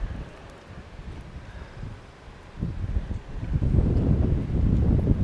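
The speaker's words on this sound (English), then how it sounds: "Whew, it's getting windy." Gusty wind at Lake Mary in Mammoth Lakes buffets the microphone as a low roar that grows stronger and more turbulent toward the end.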